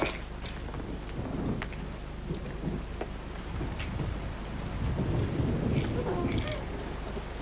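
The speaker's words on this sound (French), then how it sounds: "Il pleut." Steady rain falls in a continuous hiss with faint low rumbles, while voices talk over it at moderate distance.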